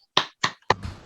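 Three sharp, evenly spaced claps in a classroom chant, close and crisp with brief silence between, ending in faint room noise.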